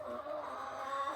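Backyard hens, gray sapphire gems and speckled Sussex kept in a survival garden, cluck steadily at close range, a continuous low chatter of overlapping calls with no talking.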